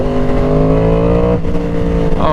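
A Yamaha R1 motorcycle in full-power mode with traction control off gives a loud, close, sustained high-pitched engine roar whose pitch holds and then climbs slightly near the end.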